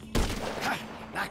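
A single gunshot in GTA 5, a sharp crack at the start followed by a fading tail, with faint voice-like sounds afterward.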